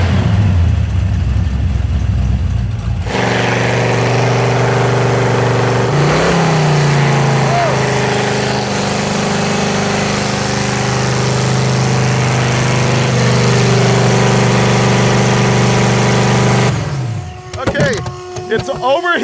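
A supercharged engine with a blower belt runs steadily under boost for about 14 seconds, a loud sustained mechanical drone with a whining tone, then cuts off abruptly near the end.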